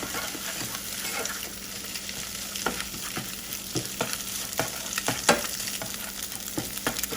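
Bacon fried rice with red pepper flakes is stirred in a hot pan, a quieter sizzle punctuated by repeated sharp scrapes and taps of the utensil at an irregular rhythm, with no voices.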